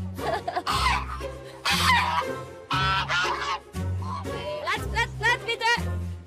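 Tame geese honk loudly and repeatedly at close range, with a few overlapping calls and a voice talking through the noise.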